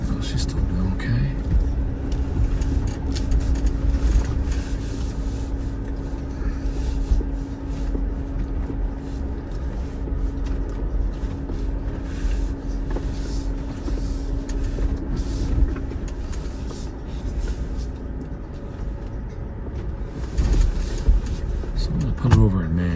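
A Jeep Wrangler 4xe working on the Rim Rocker Trail, its drivetrain a steady low hum and rumble with rubbing and creaking from the rough ground, continuous and fairly close under occasional talk.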